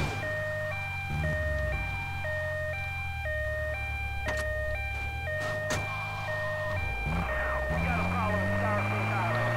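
Emergency vehicle siren in the GTA Vice City video game, a steady two-tone wail cycling back and forth over a low engine drone, with a voice talking over it.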